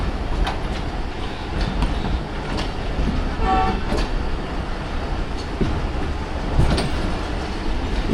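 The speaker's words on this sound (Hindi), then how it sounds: "एक साथ डिपार्चर विसल हुआ है और एक साथ ही डिपार्चर हुआ है।" Trains on the Awam Express route between Rawalpindi and Lahore sound short departure whistles and rumble off together, a continuous rolling rail noise with brief horn blasts and clicks over it.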